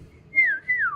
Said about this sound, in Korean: 생전 처음 듣는 휘파람 소리에